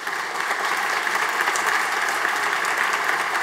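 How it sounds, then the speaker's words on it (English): Steady, dense applause from a large audience at a university commencement ceremony, filling the whole stretch with even clapping and no break. "Please let's give them a hearty round of applause."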